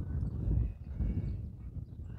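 Horse hooves thudding on the ground as the horse is worked on a training circle, a steady low rhythmic beat that runs through the whole stretch without talk.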